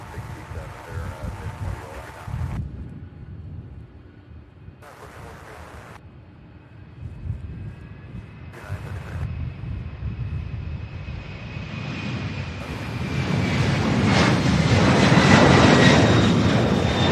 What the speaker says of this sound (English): Beautiful takeoff there for the Salt Lake City